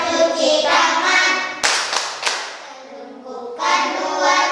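A young girl leads a classroom hand-clapping chant, Tepuk CTPS, about handwashing, sung rhythmically with a short burst of sharp claps in the middle between sung lines.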